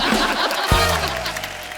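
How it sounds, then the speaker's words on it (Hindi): Studio audience applause on The Kapil Sharma Show for a guest, a continuous wash of crowd clapping with some laughter mixed in and a low thump midway, sustained throughout. "अश्विनी जी के तालियां बजाओ।"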